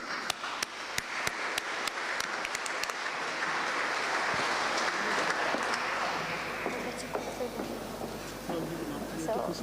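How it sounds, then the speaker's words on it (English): Applause breaks out at the Rochdale Diversity Awards 2024 in a town hall, starting as scattered claps and swelling into dense, steady clapping from the audience before thinning toward the end. "Can we have a round of applause?"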